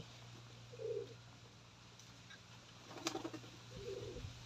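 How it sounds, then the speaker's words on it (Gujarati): A pigeon coos softly a few times, faint and somewhat distant, amid quiet background hum and a brief light rustle. "કબૂતર દાણા"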